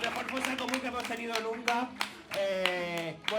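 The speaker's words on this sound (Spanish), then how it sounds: "Este aplauso es de nosotros para vosotros." Performers clap for the audience after a comedy theatre show: a brief burst of close hand clapping mixed with voices talking.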